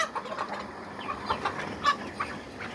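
A large farm-raised rooster from a machine-hatched batch gives soft, scattered clucks, fairly faint, over a quiet background.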